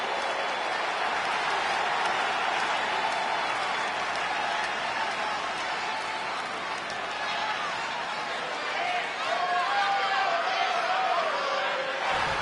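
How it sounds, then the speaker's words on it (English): A WWE 2K20 arena crowd roars and cheers in a steady, dense wash of noise that holds for the whole stretch, with a commentator talking over it. "these women may be caught off guard a bit by this stellar crowd reaction they're receiving here"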